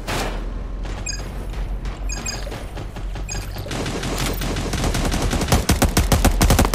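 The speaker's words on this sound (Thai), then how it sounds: "เฮ้ยมีคนยิงว่ะ" Gunfire in the PC shooter game Cyber Hunter, sparse shots at first, then a dense rapid automatic burst building louder toward the end, with no talk over it.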